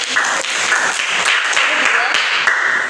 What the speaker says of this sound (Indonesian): Tepuk tangan dong untuk Mas Uce.